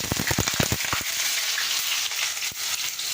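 Potatoes drop into hot oil already spiced with nigella seeds and chili, giving a burst of crackling pops before settling into a loud, continuous sizzle with occasional sputters and no talk.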